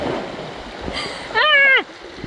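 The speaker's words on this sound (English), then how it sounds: "Water surge almost pushed me off of this." Rushing water surges and splashes down the natural rock slide at Papase'ea Sliding Rocks in Samoa, with a person's brief high shout rising over the churning flow.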